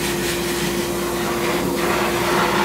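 A shot peen blast cabinet cleans automatic transmission valves with a special blasting media, giving a loud, steady hissing roar with a constant hum underneath, close and unbroken throughout.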